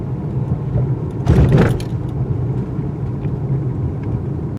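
A 2019 Mercedes-AMG E53 or 2019 Lexus LS500 turbo driving over a big speed bump, heard from inside as a steady low cabin rumble with one brief heavy thump and rattle midway.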